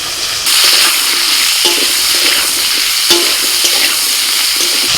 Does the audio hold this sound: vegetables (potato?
yes